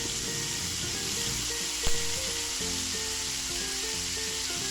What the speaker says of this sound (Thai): เราก็นำพริกหยวกหั่นนะครับ ลงไปผัดนะครับ